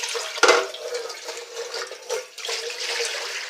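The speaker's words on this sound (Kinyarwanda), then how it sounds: "Nshyizeho isafuriya, ndasukamo y'amazi ijage" Water pours from a jug into a saucepan. It starts with a sharp splash, then a continuous gurgling stream with brief surges, fairly close and without talk.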